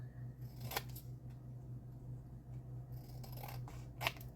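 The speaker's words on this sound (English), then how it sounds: "And I want to trim it up just a little bit." Scissors snip to trim a Gelli plate printed Christmas card, a few crisp, quiet cuts spaced apart in a calm room, with a quick pair of snips near the end.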